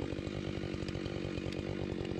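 Husqvarna 592 XPG chainsaw sawing through wood, a loud, steady close-up engine roar with a rhythmic pulsing chatter as the chain cuts, running alone throughout.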